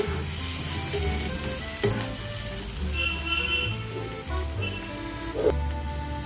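Boiled onion paste frying in a pan over low-medium heat, a steady close sizzle with light stirring scrapes running throughout the clip.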